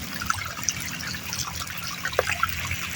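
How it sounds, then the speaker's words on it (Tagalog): Flood water flowing into a house: a steady wash and trickle of water with a few faint drips and splashes throughout. "Pumasok na ang tubig sa amin at mapupuno na naman kami dito guys."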